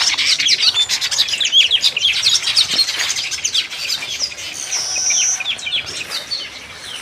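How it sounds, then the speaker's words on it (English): Many birds chirp and tweet in a dense, continuous chorus during nest building on a peaceful morning in an African village, with bright overlapping calls close by and faint insect hum beneath. "You can enjoy the beautiful chirping."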